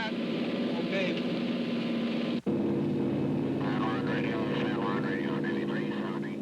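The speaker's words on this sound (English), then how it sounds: "While the aircraft orbits inside the eye" A Navy hurricane hunter aircraft orbits inside a hurricane's eye, its loud, steady engine drone filling the cabin with one brief dropout. Faint voices come through over the hum.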